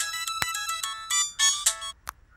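A phone ringtone plays a bright, chiming electronic melody of quick notes for an incoming call, clear and fairly close, briefly broken by short gaps before it stops.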